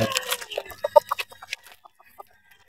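Red Kelso and Sweater gamefowl roosters cluck close by in a run of short, quick calls that thin out and fade toward the end, with no talk.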